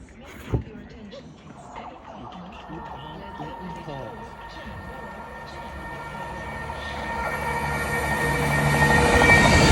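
A train rumbles and hums as it pulls away from a station at London Marylebone or Princes Risborough, its engine drone building steadily louder over about ten seconds, with a sharp knock early on and voices talking.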